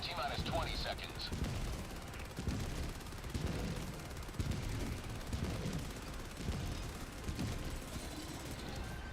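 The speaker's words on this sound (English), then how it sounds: "That's a lot of rockets." Dense rapid-fire barrage of rockets and gunfire in Helldivers, explosions and launches packed continuously for about nine seconds, loud and chaotic with voices talking over the action.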